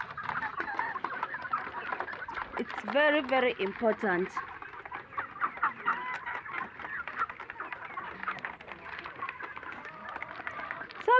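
Layer hens on a small village poultry farm cluck and squawk in an irregular, busy chorus close by, while someone talks over them.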